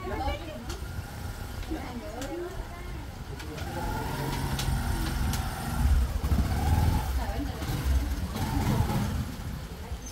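A motorcycle engine rumbles and idles nearby at a steady low throb while people talk over it.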